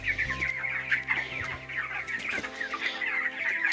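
Chickens on a poultry farm cluck continuously at close range, overlapping soft calls forming a busy, steady chatter with no one speaking.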